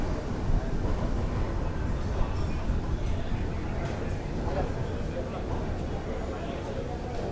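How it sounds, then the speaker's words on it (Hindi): The Dhauli Express, running from Shalimar to Puri, rolls into Santragachi station with a steady, dense rumble of rail wagons close by, heard from on board under continuous background voices. "तो हमारी ट्रेन पहुंच रही है अब संतरागाछी।"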